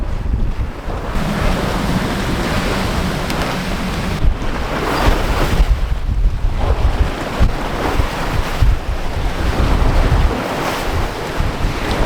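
Choppy sea waves slap and surge against a heeled sailboat under way, with strong wind buffeting the microphone in a loud, continuous roar and no talk.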